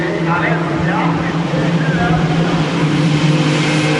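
WTCC touring race cars at Monza cruising out of the Parabolica on the formation lap, a steady loud engine drone throughout with a commentator talking over it.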